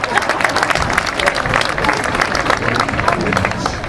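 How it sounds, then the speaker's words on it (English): Crowd applause for a raffle winner at an outdoor marching band preview show. Many hands clap in a dense, continuous patter at a steady level, with some crowd noise mixed in. "Give her a nice round of applause."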